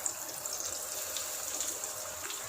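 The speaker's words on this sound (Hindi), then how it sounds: "अब हम नगेट्स डालेंगे। अब फ्लेम जो है वो स्लो कर लेनी है" Chicken nuggets frying in hot oil over a low flame give a continuous bubbling, hissing sizzle, steady and close with no voices.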